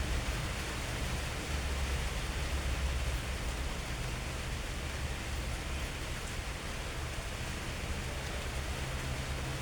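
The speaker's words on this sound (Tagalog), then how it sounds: "Yan, ulan guys oh" Light rain falls in Davao del Sur as a soft, steady, even hiss with no distinct drops standing out, fairly faint and unbroken throughout.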